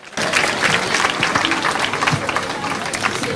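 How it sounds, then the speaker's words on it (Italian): Lively clapping breaks out for a young contestant at a local beauty pageant, starting abruptly and holding steady as a dense crowd applause for a few seconds. "Un altro applauso per la nostra Alessia"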